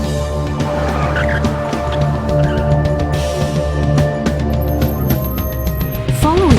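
A car under automatic partial emergency braking from the Bosch Predictive Emergency Braking System, with tires squealing and skidding over a steady engine and road drone, and a rising tone near the end, loud and close.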